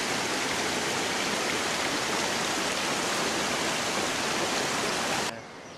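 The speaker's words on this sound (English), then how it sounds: "Here's the falls." Steady, loud rush of falling water roaring continuously, close by, cutting off abruptly near the end.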